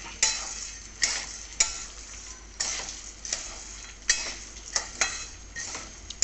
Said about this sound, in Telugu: మినపప్పు పల్లీలు ఇవన్నీ కొంచెం టైం పడుతుందన్నమాట వేగడానికి